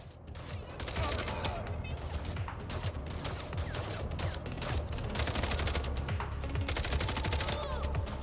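Rapid bursts of gunfire in the video game Mindseye, dense and continuous across the whole stretch, loud, mixed with other game noise and a voice talking over parts of it.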